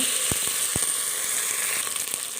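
Green chilies, coriander leaves and mint hitting hot oil with whole garam masala for a coconut-milk rice dish, a steady close sizzle with a couple of sharp clicks from stirring early on.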